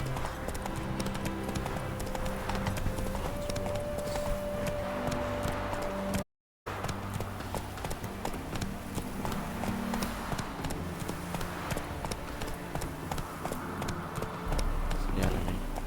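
Geralt's horse Roach galloping in The Witcher 3, rapid hoofbeats pounding continuously under game music, broken by a brief cut of silence midway before resuming with the same driving rhythm.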